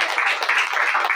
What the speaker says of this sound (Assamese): আমি তালি বজাই ঈশ্বৰক ধন্যবাদ কৰিম জোৰকে